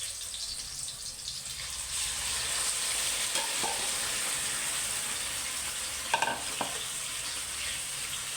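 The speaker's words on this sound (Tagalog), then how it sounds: "So, magigisa na tayo ng pork liempo." Pork belly sautéing in a pan for pork adobo makes a continuous close sizzle that builds after the first second, with a few clinks of a utensil stirring near the end and no speech.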